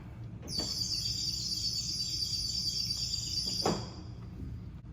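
A pipe organ's bird-whistle stop, filled with liquid, gives a steady high warbling twitter for several seconds before cutting off, with a low hum underneath.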